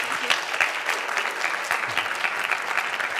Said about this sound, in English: let's give Dr. Holden one more hand of applause